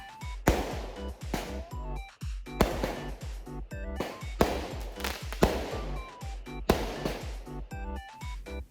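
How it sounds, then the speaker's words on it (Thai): Fireworks go off outdoors at night in China, a series of loud, sharp bangs and crackling bursts coming roughly every second, close and booming with trailing echoes. "พลุเสียงดังขนาดนี้"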